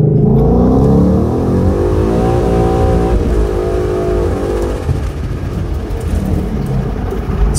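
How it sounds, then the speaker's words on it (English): A 2011 Ford Mustang GT V8 roars loudly up through the revs under hard acceleration, its engine note rising steadily, then shifting with a brief dip before pulling on, with a continuous throaty rumble throughout. "I'm going to put it in second and let it wind out"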